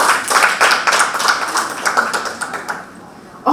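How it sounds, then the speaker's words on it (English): Applause from a conference session audience, a brief burst of fairly close clapping that fades out after about three seconds. "Give me applause."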